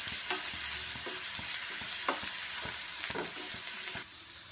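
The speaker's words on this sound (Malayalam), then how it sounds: "ഈ വെളുത്തുള്ളിയുടെ പച്ചമണം മാറുന്ന വരെ നമുക്കിതൊന്ന് ഇളക്കി കൊടുക്കാം." Chopped garlic sizzles in hot oil in a pan while a utensil stirs it, with soft scraping clicks repeating over a steady frying hiss, close and fairly quiet, no voices.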